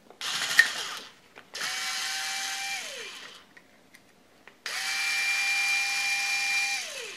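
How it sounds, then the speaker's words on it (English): A power screwdriver backs screws out of a wood router base plate in two long whirring runs and a short earlier burst, each ending with a falling pitch as the motor winds down, close and loud, with no talking. "I'll just take the time here to take these screws out"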